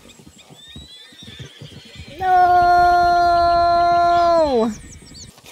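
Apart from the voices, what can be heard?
mustang horse neighing in Red Dead Redemption 2 video game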